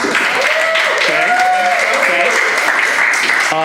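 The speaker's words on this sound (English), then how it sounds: "round of applause if you've heard the show before" A live podcast audience claps loudly and continuously at a recording of Women of Bourbon, a dense close wash of applause under a voice talking over the top.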